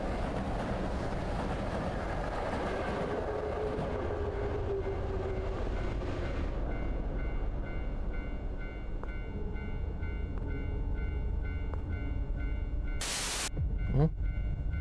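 A video game train rolls past close by, a long rumbling wash with faint rail clatter that eases off partway through, followed by a brief sharp high tone near the end.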